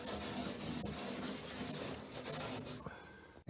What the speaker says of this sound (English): I've used steel wool to smooth the surface it's going to, including underneath this vent adapter.